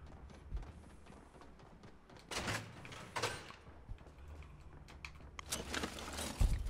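A door opens in the video game Fortnite, with brief scraping, clattering bursts at moments and a louder thump near the end over a low, steady background.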